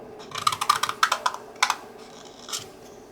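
Pattern paper being trimmed for a journal, a quick run of crisp snipping cuts in close succession followed by a few isolated snips, close up with no talking.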